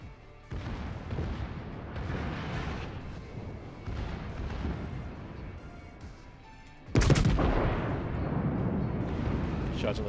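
Naval gunfire from World of Warships, heavy rumbling ship cannon salvos and booms rolling in bursts, with one loud sudden blast near the end; no talk.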